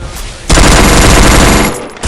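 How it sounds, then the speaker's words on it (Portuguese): Rapid automatic gunfire in the mobile battle royale game Free Fire, a very loud continuous burst of shots that briefly pauses near the end, played at close range. "Muito tiro."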